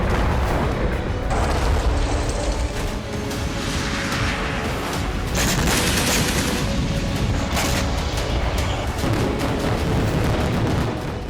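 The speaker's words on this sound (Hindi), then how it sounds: "सीरिया की धरती पर धमाके तेज हो गए हैं।" Explosions in Syria captured in news footage, a continuous loud roar of blasts and rumbling booms with sharper bursts throughout, no voices.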